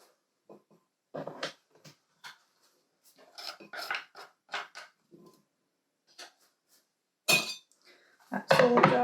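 Knife chopping pasta salad ingredients on a cutting board, a scattering of irregular close taps and scrapes with pauses between cuts, ending in a louder burst of rustling and scraping.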